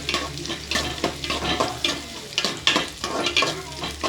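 Chopped onions sauté in a pan with lightly browned fenugreek seeds: a continuous sizzle broken by repeated stirring scrapes and clinks, close and fairly loud, with no talk.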